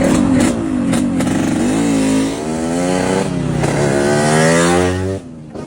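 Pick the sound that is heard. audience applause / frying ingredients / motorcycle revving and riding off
motorcycle revving and riding off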